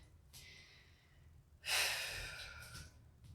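A sharp inhaled breath during a stick mobility rotational strength workout, a brief soft intake early followed by a louder, rushing breath that swells and slowly fades, close to the mic with no talking.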